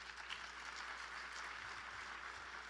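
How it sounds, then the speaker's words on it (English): A crowd applauds sponsors at a Martin Luther King Jr. tribute event, a faint, distant, even patter of clapping that carries on steadily without a break. "Give them a round of applause, please"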